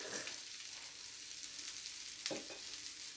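Chopped garlic sizzles steadily in a hot pan over medium-high heat, a continuous close frying hiss with a brief stir or scrape near the end.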